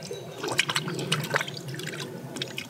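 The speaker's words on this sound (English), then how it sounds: "I'm gonna give it a good drenching of fish emulsion." Fish emulsion being poured to drench garden soil, with wet splashing and dripping liquid sounds that are fairly close and continuous, with no talking.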